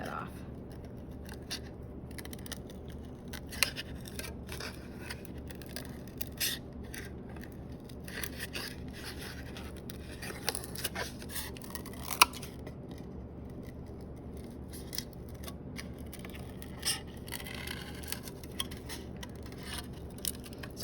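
Continuous scissors snipping and scraping through a thin foam sheet for printmaking, close-up crisp cuts and rasping strokes repeating steadily over a dull background hum.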